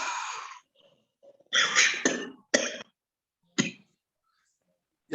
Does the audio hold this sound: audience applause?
no